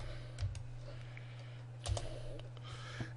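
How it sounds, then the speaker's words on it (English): Keys clicking on a computer keyboard as a command is typed: a few scattered, sharp keystrokes over a steady low electrical hum. "we can go to our command line and type in the command"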